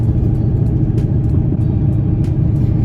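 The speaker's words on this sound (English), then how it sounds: "I'm actually driving the car because, holy crap, this thing's rattling like crazy." Steady low engine rumble of a damaged car on the move, rattling badly, with light rattling and clicking noises from the cabin over it.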